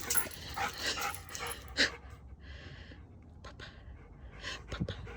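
An American Bulldog named Stella barks, yips and whimpers in short close bursts, with quick panting in the gaps between them.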